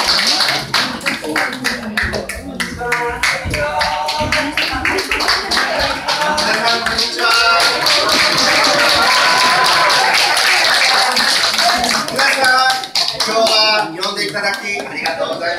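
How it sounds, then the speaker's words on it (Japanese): An audience at a community respect-for-the-aged gathering claps to welcome performers, sustained crowd applause with a voice talking over it. "拍手を持ってお迎えください"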